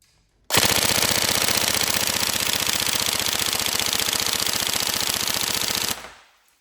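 Tokyo Marui MK18 NGRS airsoft gun fires one long full-auto burst of rapid, even mechanical clatter, loud and close, stopping abruptly after about five seconds with nobody talking.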